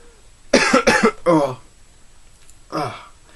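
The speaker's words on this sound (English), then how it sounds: "I've got a bit of a cough." A few short harsh coughs in quick succession, close and fairly loud, then a pause and one more cough a moment later.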